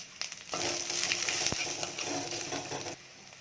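Sliced onions fry in hot oil with salt, garlic and dried red chilies, giving a dense, continuous sizzle for most of the stretch. It is broken by stirring scrapes and one sharp knock of a spoon, close up, with no talking.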